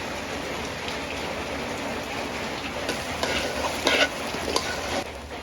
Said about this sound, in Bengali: চালটা ভালো মতন ভাজা হয়ে গেছে,